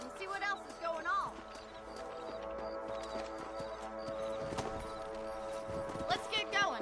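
Horse hooves clip-clopping in the Red Dead Redemption video game, played on PS5, a steady rhythmic patter under in-game music and a talking voice.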